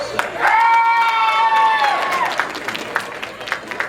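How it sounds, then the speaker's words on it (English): Audience at an anime convention game show applauding and cheering, a busy crowd roar with a bright whistle or squeal rising over it, then the clapping thins out. "I got more applause than you did this time"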